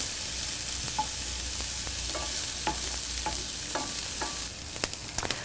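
Red onions softening in a hot pan for a pork and apple dish, a dense steady sizzle with regular spatula scrapes and taps every half second or so, a few sharper knocks at the close, nobody speaking.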